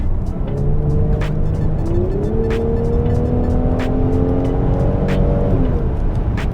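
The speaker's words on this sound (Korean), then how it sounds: "그 컴포트 모드에서 가속 페달을 급격하게 밟으면" A 2018 Mercedes-Benz GLC 43 AMG accelerates hard in comfort mode, its engine note climbing steadily from inside the cabin, with shifts breaking the rise before it settles, loud and continuous without talk.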